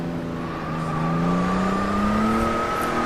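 A Jaguar D-type racing car at Goodwood roars past, its engine note climbing steadily as it accelerates, loud and close with a strong rising drone and no voices.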